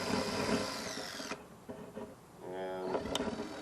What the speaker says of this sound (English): I think I'm going to drill it a little bit bigger.